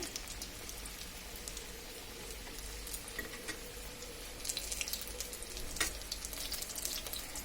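Chicken masala poli sizzles as it fries in a pan, a steady crackling hiss with scattered pops and a few scraping stirs, no voices over it.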